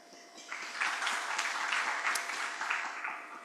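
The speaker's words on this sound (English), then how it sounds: "Ladies and gentlemen, a bigger round of applause" Audience applause at the Britam Uganda 'Take Control' campaign launch: a dense, steady patter of many hands that swells in after a quiet start and holds at a moderate, slightly distant level.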